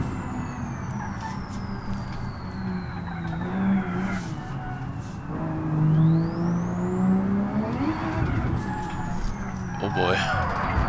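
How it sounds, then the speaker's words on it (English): From inside a car, the engine's turbo whine rises and falls as the car accelerates and shifts, with a sweeping high-pitched tone above engine rumble and a voice speaking over it. "Oh my goodness, that turbo sound in first person."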